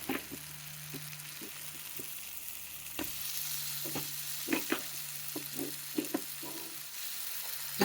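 Cumin sizzles and crackles softly in a hot pan while being stirred, with scattered scraping taps from the spoon over a continuous frying hiss.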